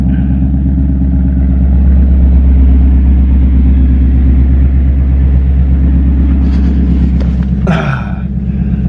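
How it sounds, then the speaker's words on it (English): A Dodge Challenger Hellcat and a Mustang GT run side by side after a cold start, making a loud, deep, steady engine rumble that holds throughout, with a brief sharp noise near the end. "this is just a quick little rev battle, nothing crazy"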